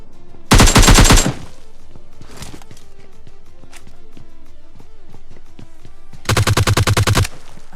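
Gunfire in the mobile shooter PUBG Lite. Two loud bursts of rapid automatic fire, one near the start and one near the end, bracket quieter footsteps and faint game noises, with no talk.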